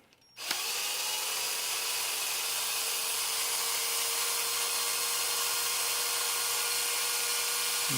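A drill starts up abruptly and then runs with a continuous high-pitched whine boring through metal, loud and close, holding steady for several seconds.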